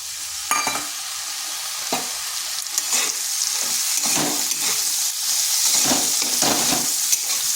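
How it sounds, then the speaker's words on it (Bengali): Eggplant and potatoes frying together in a pan for a vegetarian drumstick-flower dish, with a steady loud sizzle broken by several bursts of stirring and scraping, no voices. "আলুর সঙ্গে বেগুনটাকেও একটু ভেজে নিচ্ছি।"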